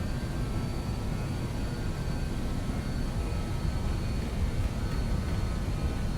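Simulated BAe 146 airliner in Microsoft Flight Simulator 2024 with its four jet engines at takeoff power, a steady, loud, broad roar dominated by low rumble that holds constant throughout, with no voices.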